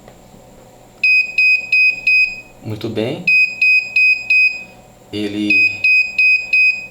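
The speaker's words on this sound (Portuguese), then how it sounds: "o buzzer vai tocar" A mains-synchronized digital clock's alarm buzzer sounds in rapid bursts of sharp repeated beeps, loud and close, broken twice by someone speaking briefly before the beeping resumes.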